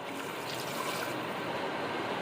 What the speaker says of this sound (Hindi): अब इसके अंदर हम डालेंगे 1 गिलास भर के पानी